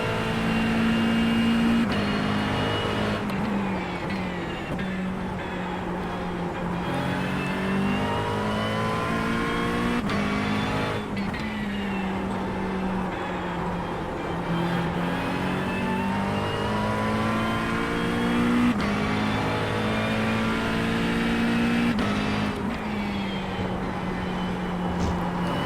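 A race car engine in the EA WRC or iRacing sim revs and pulls through gears continuously, with rising and falling pitch sweeps as the car accelerates, lifts and gets back on the throttle, loud and steady throughout with no talk.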